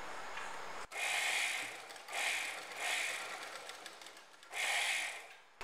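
A sewing machine stitches a kurta panel in several close, steady runs of whirring, separated by short pauses, with no talking.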